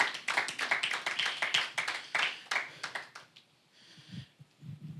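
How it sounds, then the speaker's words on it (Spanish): A church congregation applauding, a burst of rhythmic clapping from many hands that fades out after a few seconds into quieter room sound. "Dale un fuerte aplauso al Señor Jesucristo."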